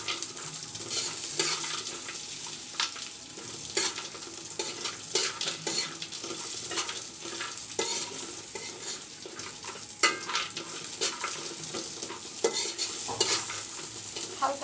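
Raisins and nuts fry in ghee or soybean oil, a continuous dense sizzle and crackle with busy stirring scrapes throughout, close and steady with no voices.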